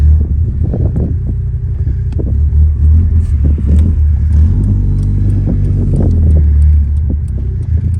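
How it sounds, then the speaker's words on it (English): BMW E30 with a 1.9-liter M44 engine pulling away, a loud close rumbling engine note with uneven revving pulses and slight rattles throughout. "Let's try to drive this thing again."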